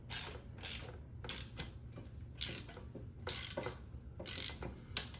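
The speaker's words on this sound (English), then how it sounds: "I'm gonna go ahead and start tightening." A ratchet tightens crash cage bolts on a 2025 Kawasaki ZX6R motorcycle, giving about eight quick ratcheting clicks in bursts with brief pauses between strokes, close and clear with no voices.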